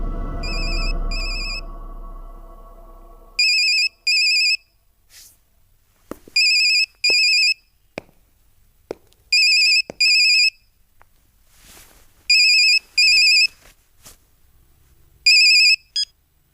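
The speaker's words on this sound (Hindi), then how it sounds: "यशवंत को मोबाइल पे फोन लगाओ" A mobile phone rings in repeated electronic bursts, loud and clear, each pair of tones separated by near silence, with a few faint clicks between rings.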